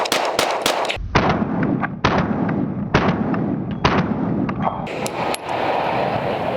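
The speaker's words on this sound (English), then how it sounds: "I wanted to show you guys the difference in recoil with different grains of 9mm ammunition." Sig P320 Spectre Comp 9mm pistol firing 124-grain rounds outdoors, sharp loud shots in quick groups, about four rapid cracks then several more spaced reports with short ringing gaps between.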